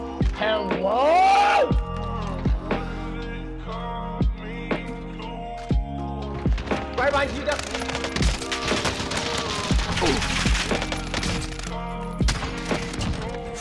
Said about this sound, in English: Shooting at somebody.